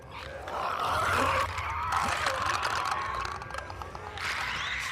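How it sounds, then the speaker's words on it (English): Clicker infected in The Last of Us Part II give off a steady stream of guttural, rasping growls and clicking groans that stays loud and close throughout, with no pauses. "And the spine-chilling sounds of the clickers."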